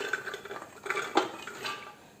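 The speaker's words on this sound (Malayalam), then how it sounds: "ഇനി ഇത് നമുക്ക് കുക്കറിലോട്ട് ഇട്ട് കൊടുക്കാം" Chopped jackfruit seeds tipped into a pressure cooker, a few light clattering knocks and scrapes of seeds hitting metal, close and fairly soft.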